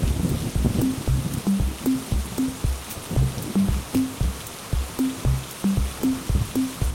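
Cartoon rain falls steadily on a rainy day, a constant patter beneath a repeating rhythmic musical loop of low tones.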